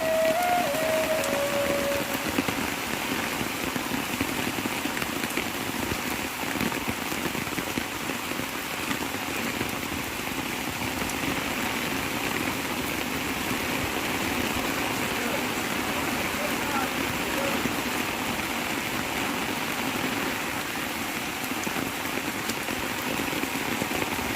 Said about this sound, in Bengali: প্রচুর পরিমাণে বৃষ্টি হচ্ছে আমাদের চাঁদপুরে